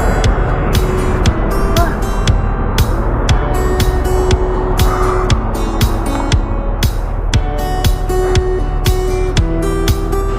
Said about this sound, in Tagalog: mabibilang po na lang natin yung mga dumadaan sa sasakyan dito sa may kahabaan ng C5 corner Lanusa